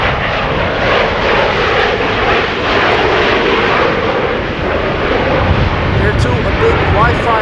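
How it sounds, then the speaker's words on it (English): A KLM passenger jet from Madrid lands at Amsterdam Schiphol in breezy post-storm wind, a loud continuous engine roar with wind rumble, a voice talking over it. "KLM flight 1702 arriving from Madrid"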